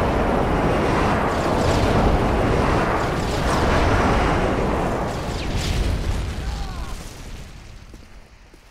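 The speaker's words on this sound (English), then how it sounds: "Friendly airstrike on the way." Airstrike explosions roar in Call of Duty Modern Warfare 3, a long, loud, rumbling blast wash that swells for several seconds and then fades, with a faint voice underneath.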